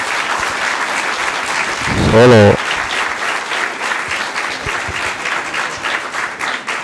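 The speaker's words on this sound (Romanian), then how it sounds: "Și încă o dată vă rog să îi aplaudați pe acești îngeri" An audience applauds at a children's carol concert held by the Imola parish, with dense, sustained clapping throughout and a brief voice rising over it partway through.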